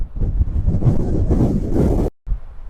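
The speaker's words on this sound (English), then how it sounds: "It really is windy today." Strong coastal wind off rocky shore and breaking surf in Tasmania buffets the microphone in a steady, heavy rumble that cuts out abruptly for a moment near the end.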